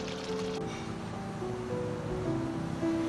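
Water at a rolling boil in a pot, ready for the rice of a Sindhi degi beef biryani, gives a steady close bubbling and churning wash with no voices over it.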